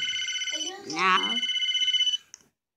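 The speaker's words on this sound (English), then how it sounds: "phone ringing. We know. It's not working." In a Roblox pizza tycoon game, a phone rings in a steady, fast electronic trill that repeats for about two seconds, stops briefly while a voice talks over it, then carries on and cuts off.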